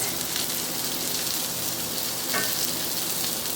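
Zucchini cakes frying in a skillet, a steady dense sizzle and crackle of hot oil, close and continuous with no talk.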